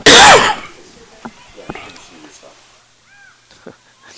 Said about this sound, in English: in an attempt to cover his cough, turned the mic louder